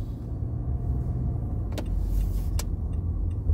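A car drives through slow traffic on a suburban road, with a low steady road and engine hum from inside the cabin and a couple of brief sharp clicks midway.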